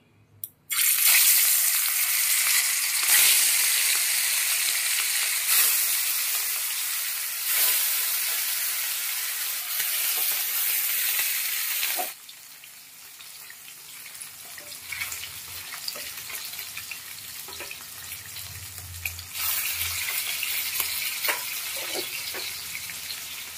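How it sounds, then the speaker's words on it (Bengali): Fish rubbed with turmeric and salt fries in smoking-hot oil, a loud, steady hiss and crackle that bursts in abruptly, then settles into a quieter, continuous sizzle for the second half. "এবার হলুদ লবণ মাখানো মাছটা ভেজে নেব"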